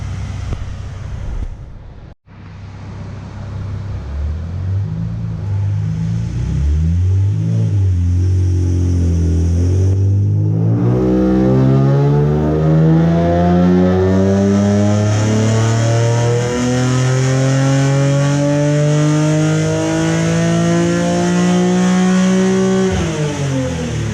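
A Nissan 370Z Nismo with Z1 headers revs hard on a dyno, the loud engine note climbing steadily in pitch through a long pull after a brief cut near the start, then dropping off abruptly at the end.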